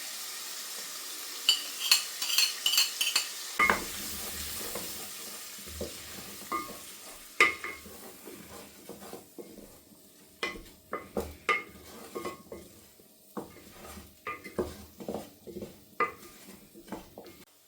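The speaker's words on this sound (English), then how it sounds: "I'm going to stir in a tablespoon of flour" A spoon scrapes and stirs vegetables and a spoonful of flour in a pan for beef bourguignon, with a soft sizzle, irregular clinks and scraping strokes close up, growing busier toward the end, no talking.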